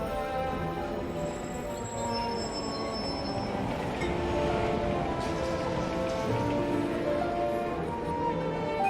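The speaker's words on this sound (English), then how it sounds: "Got a tram, I believe this is called. Like the old school train." An old-style tram runs in Syberia: The World Before with a steady, close rumble and a rain-like hiss that holds evenly throughout, with faint tonal hums on top and no talking.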